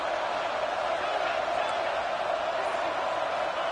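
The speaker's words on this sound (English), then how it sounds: "Listen to the crowd energy here in the early going" A loud stadium crowd roars steadily at a football game in a hostile road environment, a dense continuous wash of cheering with no breaks, under a play-by-play voice.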